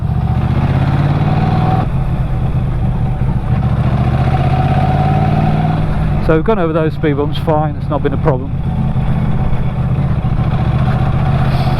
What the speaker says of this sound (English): A lot of people said the exhaust's really loud.